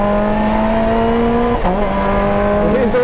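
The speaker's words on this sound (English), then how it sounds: "Here's a lap at Donington Park in the new Sequential Elise Cup JTR" A paddle-shift sequential Lotus Elise Cup JTR race car at Donington Park, its engine loud and close, holding a steady high note before a quick shift drop and then settling again.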